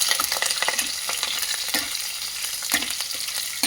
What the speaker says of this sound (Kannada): ಇದನ್ನು ತಿರುಗಿಸ್ತಾ ಇದಕ್ಕೆ ಫಸ್ಟು ಹಸಿಮೆಣಸಿನ್ಕಾಯಿ ಹಾಕ್ತಾಯಿದ್ದೀನಿ.